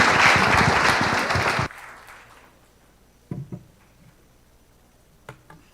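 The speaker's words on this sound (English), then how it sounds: "A big applause for." Conference audience applause after a talk, a loud burst of clapping that cuts off abruptly after under two seconds, followed by near silence with a few faint taps and knocks.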